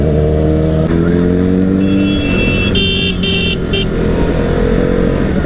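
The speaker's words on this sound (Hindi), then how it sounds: "इसकी आवाज जो है दिल में जाती है, मतलब प्यारी आवाज है, इसलिए तो सुपर बाइक नाम पड़ा है यार" A Kawasaki Z900 superbike's exhaust rumbles loudly up close while riding through city traffic, its pitch rising and shifting as the engine revs, with a brief high tone partway through.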